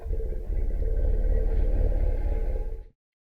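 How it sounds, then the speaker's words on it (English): An elephant's deep rumble, made when elephants are very close to each other, is a low, steady drone that holds for about three seconds and then stops abruptly. "So what you're going to hear is a very special rumble of an elephant."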